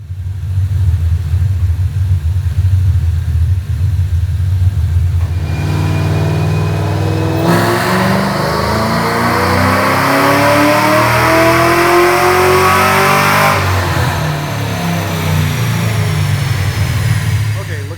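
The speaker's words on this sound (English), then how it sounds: "Check out the dyno pull." A 2004 Mustang GT two-valve V8 with cams and bolt-on parts, loud and close on a dyno, idling with a deep rumble, then climbing steadily in pitch through a long full-throttle pull before backing off.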